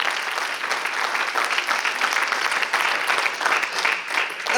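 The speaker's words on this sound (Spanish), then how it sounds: "Que le dé un aplauso al Cristo de la gloria." A church congregation claps together during a Spanish-language sermon, a dense, steady roar of applause that stays even and fills the whole moment.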